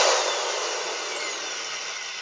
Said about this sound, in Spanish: Tenemos que tener mucho cuidado a la hora de hacer el agujero. ¿Por qué? Porque el taladro tiene mucha fuerza.